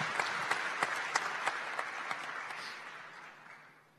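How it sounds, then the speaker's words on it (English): Applause from a town hall audience, with individual claps standing out in a loose rhythm over a softer bed of clapping that gradually fades away. "Yeah, you should applaud for him"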